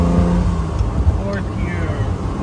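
A 1968 Ferrari 330 GTC's engine runs loud and steady from inside the cabin as the car accelerates up through the gears, a continuous throaty drone with slight pitch shifts, while a voice talks over it.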